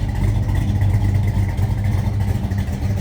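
Loud, deep rumbling 5-liter V8 of a Ford Mustang with a redone exhaust, running close by, a continuous throaty growl with a slight rise in revs.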